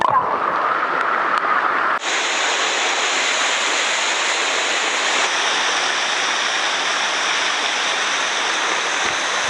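Cascade Waterfalls near Port Vila, Vanuatu, roaring as a steady, loud broadband rush of falling water close by, with a brief quieter start before the full roar sets in.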